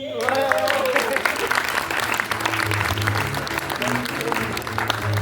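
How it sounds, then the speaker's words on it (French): Theatre audience applauding at an amateur stage show in Ambert, a dense steady clapping that fills the whole stretch, with some voices mixed into the crowd noise. "On les applaudit."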